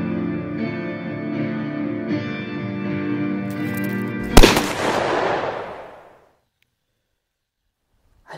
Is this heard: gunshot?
yes